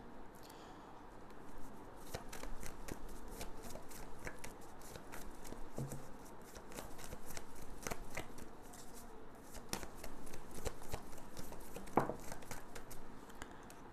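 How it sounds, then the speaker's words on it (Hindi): Tarot cards are handled, shuffled and drawn close by, giving soft papery swishes, irregular flicks and brief rustles over a quiet room, with no voice heard. "अरकाना से हम 5 कार्ड्स लेंगे और फिर उससे क्लैरिफाई करेंगे टैरो से।"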